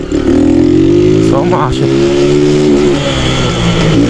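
Revving engine of a car called Garibalda, held at high rpm with the exhaust roaring loud and close, the pitch climbing and holding steady while a voice speaks briefly over it.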